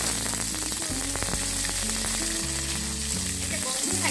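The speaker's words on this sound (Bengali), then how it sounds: "তেলের মধ্যে যদি ভাজা হয় তাহলে সেই গন্ধটা আর থাকে না। আমি ভালো করে ভেজে নিচ্ছি।" Dried chela fish fry in hot oil with green chilies, crackling loudly and steadily close by. Faint tonal sounds run underneath.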